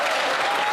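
Conservative MPs applaud in the House of Commons chamber, a dense, steady wash of clapping from many hands at close range, with no break through the short burst.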